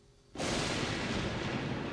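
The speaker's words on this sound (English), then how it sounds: "when the thunder booms, we stop." A sudden loud rumbling thunder boom bursts in after a brief quiet moment and keeps roaring steadily without fading, from a children's cartoon.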